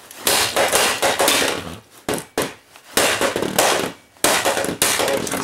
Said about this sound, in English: Now I'm going to take this skateboard and smack it with a hammer, get it to crack open.